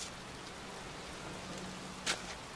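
Steady pouring rain in a cemetery in the video game Heavy Rain, a continuous dense wash of rainfall with one brief sharper splash near the end.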